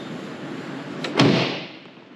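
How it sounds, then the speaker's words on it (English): A Porsche car door, one of a classic collection, swings and shuts with a solid single thump, preceded by a lighter click of the latch, heard alone and close. "they open and close very nicely"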